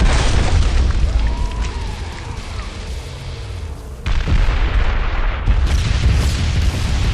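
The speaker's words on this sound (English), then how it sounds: "Watch out, grenade!" Grenade explosion in the Killing Floor 2 video game, a heavy rumbling boom with a rolling low tail, followed by a second sharp blast midway and continued loud crashing game noise.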